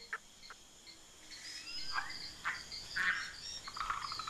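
A green tree frog perched on giant water lily leaves croaks in short, scattered calls, faint and repeated over a soft hiss of wild background ambience.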